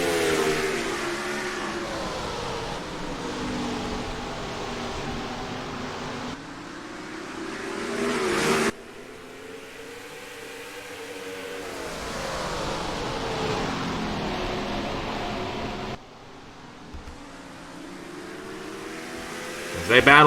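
Race trucks roar around a short paperclip-shaped oval at Old Dominion in a racing video game, a steady layered engine drone with shifting pitch that breaks off abruptly at intervals, with a commentator talking over it.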